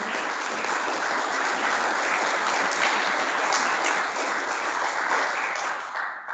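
Steady, dense applause from the audience at an annual general meeting honours the speakers, holding at an even level for several seconds before tapering slightly at the end.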